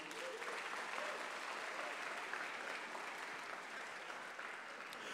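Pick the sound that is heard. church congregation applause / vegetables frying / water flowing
church congregation applause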